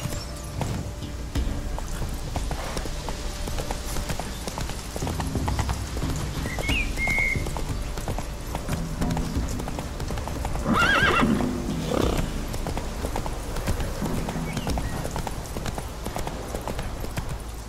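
In the video game Witcher 3, a horse gallops with a steady clip-clop of hooves, breaking into a couple of distinct neighs and whinnies over a constant background bed of game sound.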